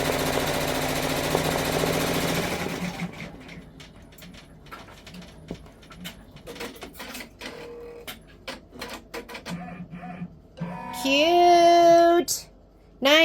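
A multi-needle OESD embroidery machine stitches out a Boo Manor design, a loud rapid mechanical rattle at first, then irregular clicks and thumps, ending with a high whirring tone that rises and falls.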